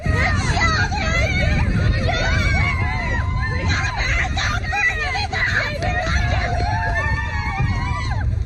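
A dense crowd of marathon spectators screams and cheers continuously at close range, high excited voices overlapping throughout.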